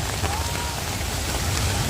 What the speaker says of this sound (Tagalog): medyo malakas ang ulan gawa ng uh, may kasamang hangin